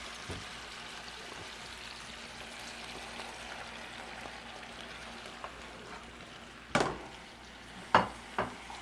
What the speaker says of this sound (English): All you want to do is just get the mushrooms stirred around for a few minutes just so you get some of the oil on them.